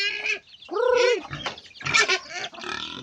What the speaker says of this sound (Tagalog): At saka meron tayong alagang manok dito